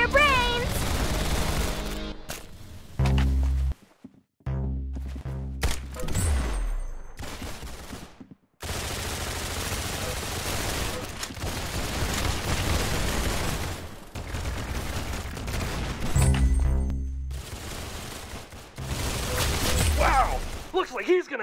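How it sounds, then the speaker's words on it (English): Gunfire in Roblox Arsenal, with repeated loud bursts of rapid shots broken by short silences, heavy volleys and some mechanical clatter across the stretch, and a voice occasionally heard amid the shooting. "That's some beautiful shooting right there."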